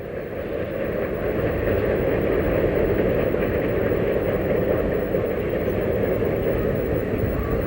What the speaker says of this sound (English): we watch as the train is pulled north